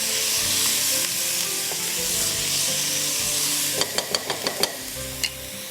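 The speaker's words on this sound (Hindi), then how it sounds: "मसालों के साथ, कड़ी पत्ते के साथ गोश्त को इसको पकने दीजिए अच्छी तरह।" Meat (gosht) frying in a pan with spices and curry leaves gives a steady, close sizzle, with a few sharp stirring scrapes and clacks near the end and no talk over it.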